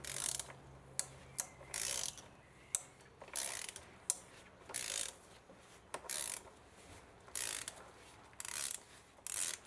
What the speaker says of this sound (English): I'm gonna use this socket. It's a 32 mil with an extension and a ratchet.